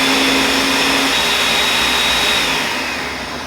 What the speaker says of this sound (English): We're gonna go ahead and put them in the blender and blend them up.